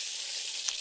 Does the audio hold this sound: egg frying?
yes